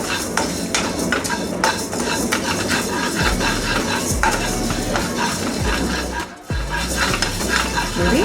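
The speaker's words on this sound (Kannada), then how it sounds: "ಈಗ ಸೇಮ್ ಸ್ಪೂನಲ್ಲೇ 1 ಸ್ಪೂನಷ್ಟು ಉದ್ದಿನಬೇಳೆ ಗೋಲ್ಡನ್ ಬ್ರೌನ್ ಆಗೋ ತನಕ ಹುರ್ಕೋಬೇಕು" Urad dal roasting in a pan, a steady close sizzle with a spoon scraping and stirring against the metal throughout, no talk.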